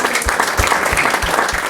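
An audience bursts into steady, dense applause, many hands clapping at close range with a faint voice underneath.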